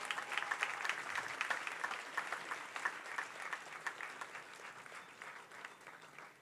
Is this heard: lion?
no